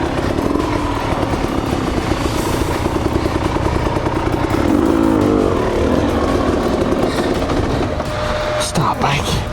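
A KTM 300 XC-W two-stroke dirt bike engine revs continuously and loudly while being ridden off-road, with a rising and falling buzzing note. A rider's voice comes in briefly.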